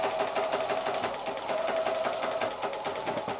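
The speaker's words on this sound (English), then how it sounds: "do yourself a little lock stitch when you start the machine" A sewing machine stitching fabric for a quilted strawberry pin cushion, running continuously with a fast, even mechanical whir and rattle throughout, with no talking.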